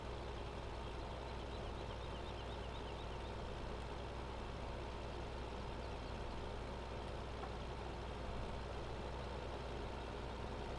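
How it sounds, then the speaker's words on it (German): A tractor engine drones in Farming Simulator 2015 as it drives between fields, a steady low, even rumble with no change in pitch and no speech. "Fahr ich den Traktor schon mal weiter vor,"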